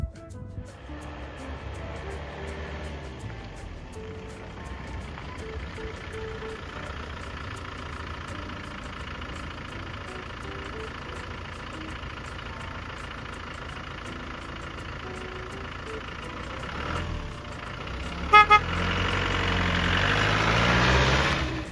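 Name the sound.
1997 Land Rover Defender 90 300Tdi diesel engine idling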